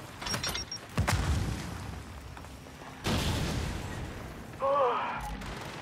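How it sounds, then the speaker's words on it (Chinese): Frag grenade blasts in the video game Gears 5, several heavy broadband booms amid ongoing gunfire, with a voice talking briefly near the end. "丢出破片手榴弹，要爆炸啦！"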